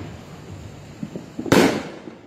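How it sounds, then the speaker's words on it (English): A single loud firework bang bursts close by during a Fourth of July celebration, a sharp explosive crack that decays quickly over low background noise. "I just missed that firework"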